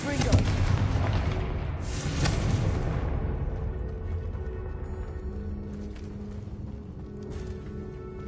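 Confringo spell explosions in Hogwarts Legacy burst with a heavy boom at the start and another around two seconds, each trailing into a long rumbling decay over faint ambient tones.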